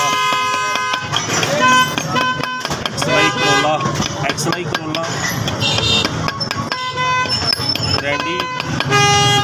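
A repaired Japanese Denso car horn, of the kind fitted to Toyota cars, blares in repeated loud bursts of honking, close by, with someone talking between the blasts.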